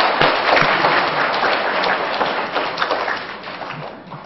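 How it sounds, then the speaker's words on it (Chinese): Audience applause at a lecture event with a hulusi competition, welcoming a performer of Henan opera: dense, loud clapping from a crowd that holds steady, then thins and fades toward the end. "现在我们掌声有请张宝和老师给我们来一段豫剧"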